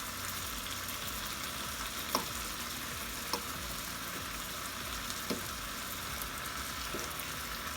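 Strips of pork tenderloin sizzle steadily in a hot pan for a stir fry, a continuous close frying hiss with a few light clicks of utensils and no talk.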